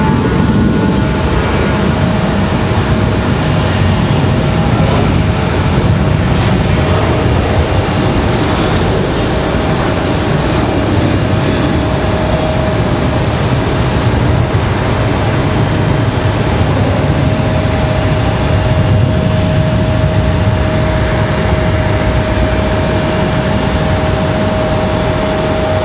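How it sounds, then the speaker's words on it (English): American Airlines Boeing 737 at Raleigh-Durham airport in stormy weather, a loud continuous engine roar with a steady whine that holds throughout and has no talking over it. "Looks like we got another American, and this one a"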